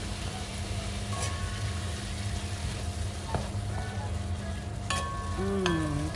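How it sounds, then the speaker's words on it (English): Green peppers, onions and tomatoes sautéing in olive oil for Cuban-style meatball sauce give a steady, close sizzle that runs throughout, with a few brief clinks and a faint tonal whine near the end. "I've added some olive oil, the green peppers, the onions, and tomatoes. And we're going to start sauteing that."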